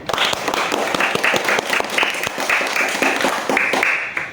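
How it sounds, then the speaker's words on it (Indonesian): Schoolchildren in a classroom clapping for their classmates' posters, a lively, uneven patter of many hands close by that swells and continues for several seconds. "Kita tepuk tangan dahulu untuk semuanya"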